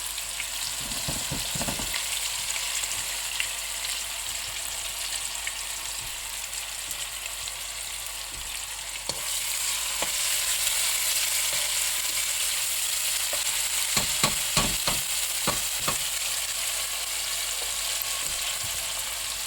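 Cauliflower fries in hot coconut oil with a continuous close sizzle that swells slightly partway through, broken by scattered spatula taps and scrapes.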